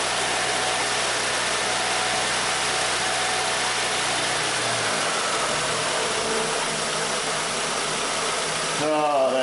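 A 2004 Mitsubishi engine idles with a steady, close rumble; partway through, the low drone drops as it falls back off fast idle, with faint voices in the background.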